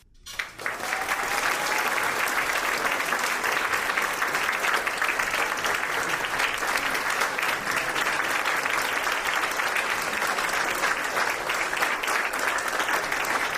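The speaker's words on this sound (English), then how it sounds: "Can we give PJ one more round of applause?" An audience of about 150 people applauds warmly at a gathering, a dense, sustained round of clapping that swells quickly and holds steady for over twelve seconds, with no voices on top.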